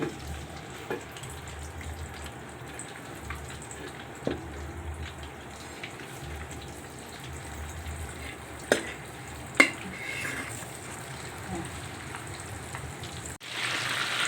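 Chicken joints fry in a pan with a faint, steady sizzle and crackle, broken by a few sharp clinks and taps, without talking.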